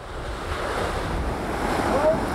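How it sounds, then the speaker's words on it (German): Strong 25-knot wind and rushing waves on the open sea aboard the Volvo Ocean Race yacht Illbruck, a continuous loud roar of wind buffeting the microphone over surging water, with no talk. "es hat draußen 25 Knoten Wind"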